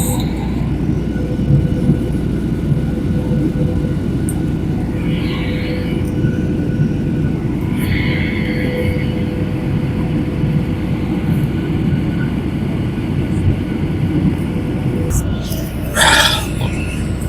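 Steady, loud broadband roar of an airliner cabin as the jet circles in a holding pattern on a Nairobi to Lilongwe flight, continuous engine and air noise throughout with a few faint higher hisses and clicks.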